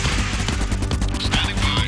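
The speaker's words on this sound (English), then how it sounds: "Wow, that railgun does some damage." A railgun fires in the game Convoy, heavy booming blasts layered over dense rumbling combat noise, loud and continuous through the short stretch.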